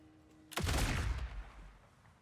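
A single heavy blast of a shotgun fired in a video game, a sudden loud boom with a low rumbling tail that fades over about a second.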